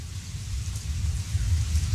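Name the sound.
rain falling, sound effect in a horror story compilation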